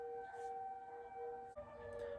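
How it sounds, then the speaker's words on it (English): A continuous siren tone holds steady and loud, dipping briefly before resuming with the same pitched wail. "That siren went on for a really long time."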